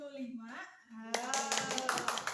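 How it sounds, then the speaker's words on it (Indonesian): A classroom group claps together after a teacher announces group scores: a voice is heard first, then a burst of close, brisk hand clapping from students that runs to the end. "Tepuk tangan buat kita semua."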